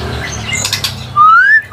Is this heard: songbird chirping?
yes